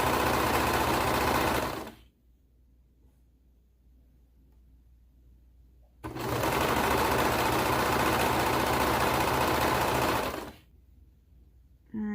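A sewing machine sews cardigan pieces in two loud, close bursts of fast stitching, separated by a few seconds of near silence, with a third burst just starting at the end.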